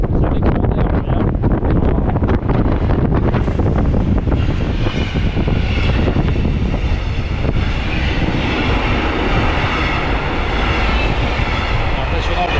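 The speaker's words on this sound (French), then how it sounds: "il y a un train qui passe dans l'autre" A diesel train passes through the neighbouring bore of the Tavannes tunnel near Verdun, making a loud, sustained roar and a continuous rush of air that fills the whole stretch.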